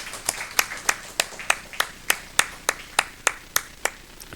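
A congregation at a Sunday morning church service claps in unison, about fourteen sharp, evenly spaced claps at a steady moderate beat, fairly close and crisp with quiet room tone between them.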